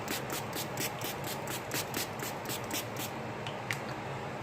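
Fine misting bursts of NYX face setting spray come from a new bottle in a quick, even rhythm of about a dozen short pumps, close and soft, with no talk over them.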